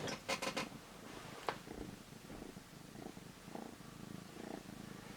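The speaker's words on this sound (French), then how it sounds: "Et il est en train de ronronner." A cat purrs softly and close, a low rumbling flutter that pulses in slow breaths, with a few brief clicks and rustles early on.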